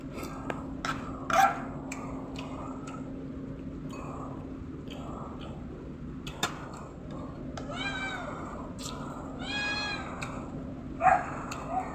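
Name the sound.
cats meowing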